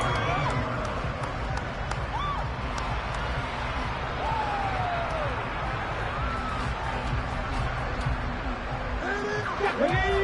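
Stadium crowd noise in a Madden NFL football video game, a steady broad roar of the crowd running under near-continuous commentary from a play-by-play announcer, with a slight swell near the end.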